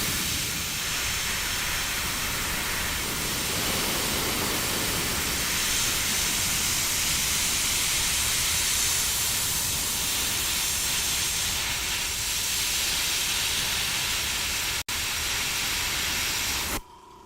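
Steady broadband hiss of a paint spray gun laying white paint over a small overspray patch while painting clouds, continuous and close for most of the stretch, cutting off near the end.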